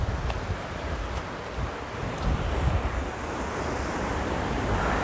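Waves roll onto Watu Lepek beach in Malang, a broad steady roar of surf mixed with wind buffeting the microphone, continuous and fairly loud throughout.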